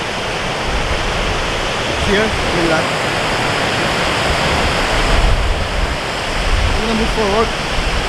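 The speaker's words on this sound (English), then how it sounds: "That's the high fall waterfall that we are talking about." High Falls waterfall near Wawa, Ontario roars as a steady, broad rush of falling water heard close and loud throughout, while someone talks briefly over it.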